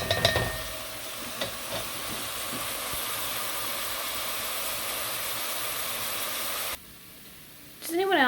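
Tomato paste cooking down in a pot for a pot roast gives a steady, broad sizzling hiss that runs unbroken for several seconds, opening with a few clinks and ending in a sudden drop, followed by a short burst of voice.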